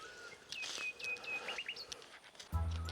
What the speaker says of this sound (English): Again, birds are saying hi to me.